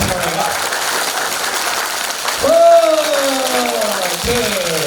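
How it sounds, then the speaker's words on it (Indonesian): Audience applause for prize winners at a BBS Jakarta success-story event fills the room as a steady, even clatter of clapping, with a voice speaking over it in the middle. "Tepuk tangan dulu dong buat para juara kita semua"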